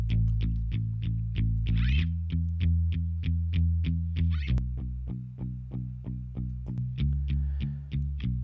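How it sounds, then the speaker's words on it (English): Bass guitar running through a SYNTHS preamp plugin, playing a steady run of evenly spaced plucked notes with a thick, slightly distorted low end, loud and alone, with a couple of brief higher scrapes along the way. "first we have the SYNTHS plugin, which is like a preamp"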